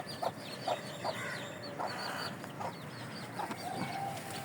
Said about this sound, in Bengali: গাছের ফাঁকে ফাঁকে মুরগির বাচ্চা, মাথায় ঝুঁটি আছে।